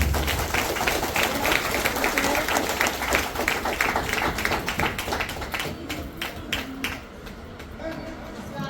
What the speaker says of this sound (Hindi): अपने अपने तालियों को, बाजुओं को जोरदार ताली से इनका स्वागत करें, जोरदार ताली